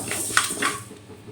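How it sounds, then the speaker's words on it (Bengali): Dry-roasted moong dal is scraped from a wok into a bowl: a short clatter of metal on metal with a couple of distinct clinks, close and brief. "মুগ ডালগুলো তো ভাজা হয়ে গেল এবার আমি এটা বাটিতে ঢেলে নিয়েছি"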